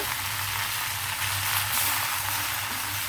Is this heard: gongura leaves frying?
yes